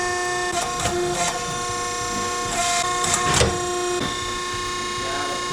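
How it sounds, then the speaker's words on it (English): A metalworking machine punches a hole in a metal tab: a steady mechanical hum with a few short, harsh bursts close up. No one speaks. "Probably punch a hole first, then bend it."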